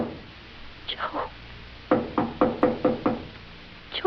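Someone knocks at a door: two soft taps, then a firm run of about six evenly spaced raps, and one more knock at the end, fairly close in a quiet room.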